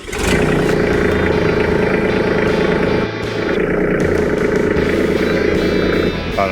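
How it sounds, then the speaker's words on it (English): A Kubota tractor's diesel engine rumbles steadily at idle, loud and close, with a brief dip partway through before it settles back into a continuous chugging drone. "we've just got to start the tractor up"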